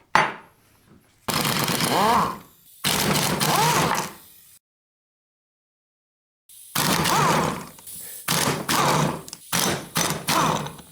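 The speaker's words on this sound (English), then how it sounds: "this is going to go on our impact gun, and we'll take all these guys off" Pneumatic impact gun removing the bolts from a motorcycle rear sprocket and hub, heard as several loud, close rattling bursts of a second or two each, separated by short pauses and one long silent gap.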